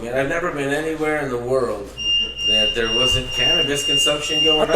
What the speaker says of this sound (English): I thought that was a smoke alarm